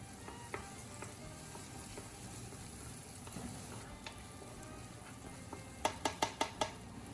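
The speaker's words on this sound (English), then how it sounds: "Using the same pan, add a little more oil. Add onion and sauté until cooked." Onion sautéing in oil in a pan, a faint continuous sizzle with occasional utensil scrapes, ending in a quick series of sharp clinks.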